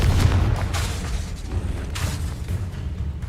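Confringo fire spell explosions in the Hogwarts Legacy video game: several deep booming blasts with broadband crackle, a burst near the start and another around the two-second mark, over a steady low rumble.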